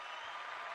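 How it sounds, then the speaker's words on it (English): A brief, faint spatter of applause from a small group, an even hiss of clapping lasting under a second with no talk over it. "Round of applause."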